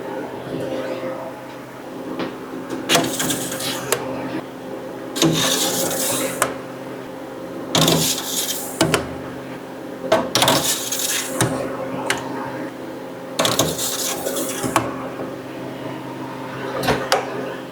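Metal trays sliding and clanking into a Harvest Right freeze dryer rack in several bursts, each a clatter of scraping and knocks, over a steady machine hum.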